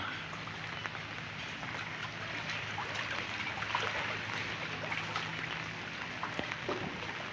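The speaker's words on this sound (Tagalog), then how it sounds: "Ayan, baha pala dito." Floodwater flows in a steady, broad rushing wash with small trickling splashes, continuous and moderately close, with no talk over it.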